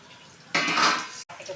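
Onion bhaji ingredients of sliced onion and gram flour are mixed by hand in a bowl, giving one brief close scraping, clattering burst of under a second between quieter moments.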